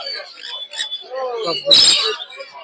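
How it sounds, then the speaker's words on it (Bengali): Shrill squawks and chirps of sun conures at a busy bird market in Mirpur, Dhaka, loudest in one sharp burst, with someone talking over them. "মিরপুরে এক পাখিরহাটে আছে কিছু কালারের সান কুনুর"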